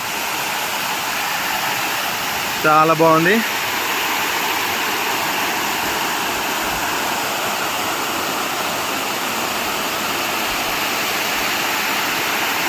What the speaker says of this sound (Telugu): So water fall, Ramoji film city water fall చూస్తున్నారు కదా.